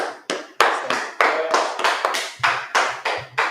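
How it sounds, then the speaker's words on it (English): Audience clapping at a gathering in Harlem, New York; a series of loud, sharp claps in an uneven rhythm, close and alone without talk. "let's clap it up"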